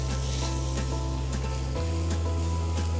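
An ingot of bonito fish sizzles loudly and steadily in a hot pan as it is turned, with a continuous close frying hiss and a low hum throughout.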